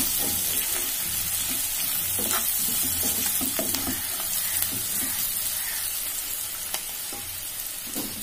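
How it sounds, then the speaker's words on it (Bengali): Spices are stirred in a pan where tangra fish with spring onion is cooking. A continuous sizzle runs throughout, broken by repeated scraping strokes of a spatula, close and fairly loud. "একটু নেড়ে চেড়ে নি মশলাগুলো।"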